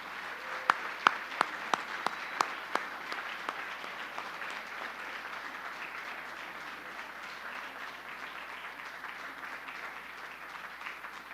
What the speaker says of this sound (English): please join me in a great round of applause to two outstanding employees here at this college